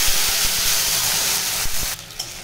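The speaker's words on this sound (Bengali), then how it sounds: "এরপরে বেটে রাখা মশলাটা ভালো করে দিয়ে দিলাম।" Ground spice paste hitting hot oil in a pan while cooking a banana flower curry, giving a loud, steady broadband sizzle and hiss that fades slightly near the end.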